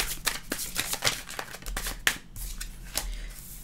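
Tarot cards are shuffled close up, giving a series of quick papery riffles and snaps in an irregular rhythm, fairly soft, with no talking.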